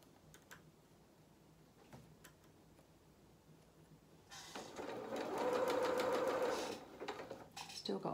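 A sewing machine stitching a small fabric jacket for a Luna Lapin toy rabbit, running in one steady whirring burst of a couple of seconds after quiet ticks and handling noises, close by, with a person speaking around it.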